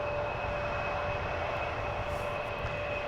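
Embraer jet arriving at Amsterdam Schiphol Airport, a steady broadband engine roar holding at even loudness throughout, with faint sustained tonal whines riding above the rumble and no voices.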